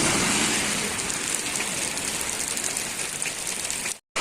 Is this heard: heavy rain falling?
yes